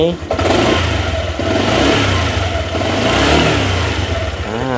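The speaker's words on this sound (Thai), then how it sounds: "เรามาลองฟังเสียงเครื่องยนต์กันบ้าง" A Honda Click 125i 2024 scooter engine idles loudly up close, then revs up and settles back, the throttle rising and falling a few times.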